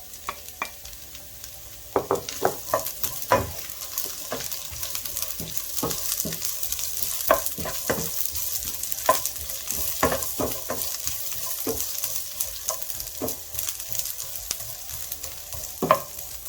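Green beans stir-fry in a hot pan for couscous, a soft steady sizzle broken by a series of sharp scrapes and clacks from a utensil stirring at irregular intervals, close and fairly quiet.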